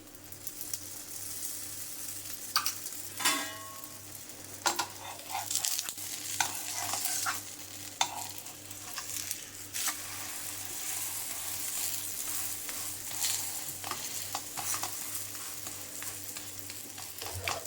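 Wheat flour holige frying in oil on a pan, a soft steady sizzle under a low hum with occasional louder scrapes and clatters of handling.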